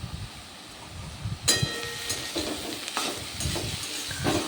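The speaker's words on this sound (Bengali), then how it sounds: "হালকা একটু হলুদ দিয়ে থোরটাকে ভেজ ভেজে নিতে হবে" Banana stem frying with turmeric in a pan, a soft sizzle broken by scraping stirring strokes that come in short bursts, close by and without talk.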